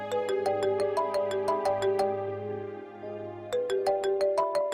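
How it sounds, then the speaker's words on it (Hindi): A mobile phone rings in a Pakistani TV drama scene, playing a bright, repeating electronic melody in quick tinkling notes. It is loud and clear, with a short lull midway before the tune resumes. "किसका फोन है?"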